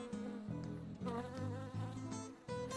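A bee buzzes in steady, droning bursts with brief breaks between them, loud and close, heard alone with no voices.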